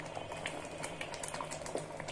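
Vegetable dal with winter vegetables simmers in an open pot after coming out of a pressure cooker, a soft steady bubbling with faint pops, quiet and close, with no voices.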